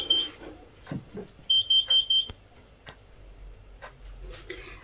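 A kitchen oven timer beeps in a quick run of four short, loud electronic tones, with scattered household clatter and ticks around it and no talk.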